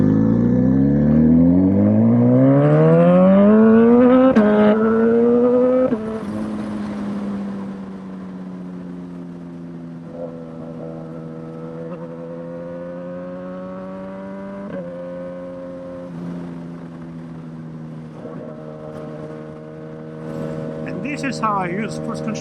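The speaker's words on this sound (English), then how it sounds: "This is how you use the cruise control on this motorcycle, and it keeps going" A Suzuki GSXS 1000 motorcycle cruises at steady speed, its engine climbing as it accelerates, then holding an even drone with small shifts in pitch, loud and close throughout.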